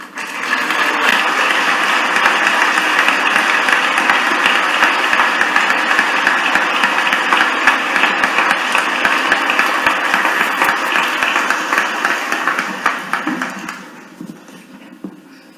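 An audience at a storytelling stage event applauds a speaker's introduction with loud, dense, sustained clapping for about thirteen seconds before it fades out.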